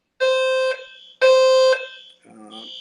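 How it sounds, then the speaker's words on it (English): An electronic alarm sounds indoors in two loud, steady harsh buzzing bursts, each about half a second long, followed by a quieter beeping tone. "I feel like there's an alarm going on."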